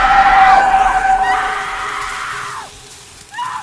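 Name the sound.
woman screaming in the Silent Hill movie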